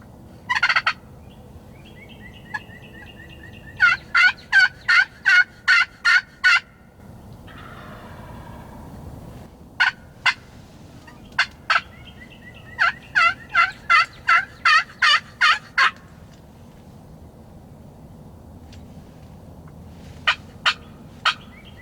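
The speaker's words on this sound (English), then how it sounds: "Every now and then he'd throw me a gobble out to one of my calls" A wild turkey tom gobbles from a distance while strutting in spring woods, the rattling bursts recurring in bouts several seconds apart with quiet gaps between.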